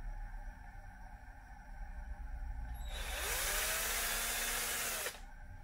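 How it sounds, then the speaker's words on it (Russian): A small power drill with a 2.8 mm bit bores a hole in a plastic RC car suspension part, a bright high whine lasting about two seconds after quiet room tone. "Соответственно, также прохожу сверлышком"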